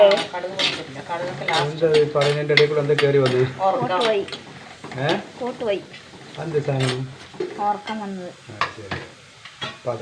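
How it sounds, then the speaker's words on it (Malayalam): Mustard seeds pop and sizzle in hot oil in a home kitchen. Faint crackles and clicks sit under a person talking almost continuously. "കടുക് പൊട്ടിക്കാനാണ് സൗണ്ട് എന്താ വ്യത്യാസല്ലേ"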